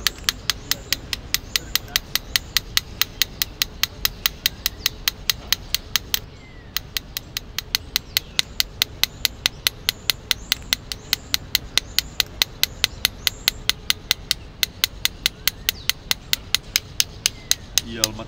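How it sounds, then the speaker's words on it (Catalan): Steady, rapid hammer blows on a metal sheet laid over an improvised anvil, each strike a sharp ringing clank in an even rhythm with a brief pause partway through, close and loud with no talking. "amb els cops de martell"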